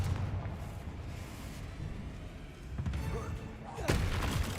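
A Confringo fire spell cast in Hogwarts Legacy bursts with a sharp explosive blast near the end, set over busy game ambience with a voice talking earlier.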